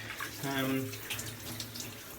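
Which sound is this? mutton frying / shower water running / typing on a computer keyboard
shower water running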